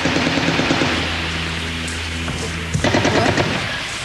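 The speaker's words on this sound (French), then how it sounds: "des tirs." Sustained automatic gunfire at the Netzarim enclave makes a dense, continuous crackling roar, with a sharper cluster of shots near the end.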